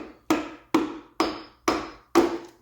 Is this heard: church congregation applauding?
no